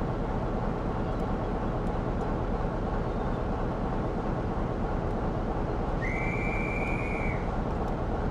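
A guard's whistle blows once, a brief high steady tone over the constant loud rumble of a train in Train Sim World 4 on the Preston to Blackpool line.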